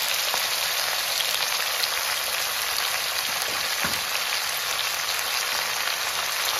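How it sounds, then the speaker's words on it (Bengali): Drumstick vegetable and cumin fry in a pan with a steady, dense sizzle that stays loud and even throughout, with no talk over it. "সবজিটা ভাজা হতে হতে জিরেটাও ভাজা হয়ে যাবে।"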